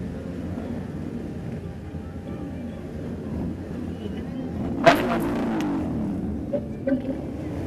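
Engines of Yamaha Tenere motorcycles rumble as a group of riders pulls away outdoors, a steady broad drone with a brief rising rev and wind noise, people talking over it.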